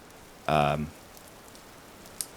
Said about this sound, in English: It's starting to rain and we could get struck by lightning